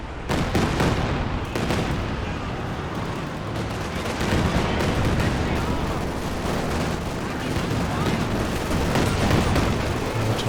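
Mortar and other artillery fire keep going in a Company of Heroes 2 2v2 battle, with dense, loud, continuous gunfire and booms layered over each other and commentary underneath.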